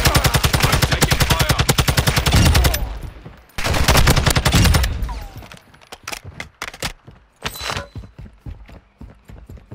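Rapid bursts of automatic gunfire in a video game, loud and close, with long sustained strings of shots breaking into shorter choppy volleys and scattered single cracks.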